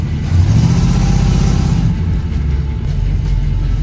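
A 1978 Chevrolet Nova's engine running loud and close, a deep throaty rumble that swells in a brief rev, then settles into a steady, slightly rough idle.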